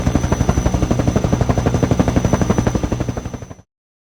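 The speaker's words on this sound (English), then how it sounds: "Where is the helicopter?" Helicopter rotor in a kids' vehicle-sounds lesson, a loud, fast, even chopping pulse close by that runs for over three seconds and then cuts to silence.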